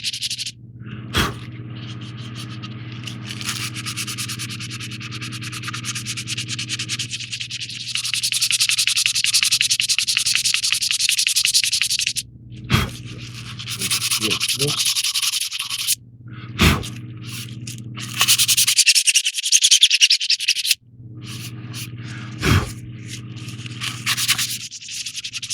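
Sandpaper rubs over the painted plastic of a 1968 AMT Klingon battle cruiser model kit in close, steady hissing strokes, stopping now and then for short pauses before starting again.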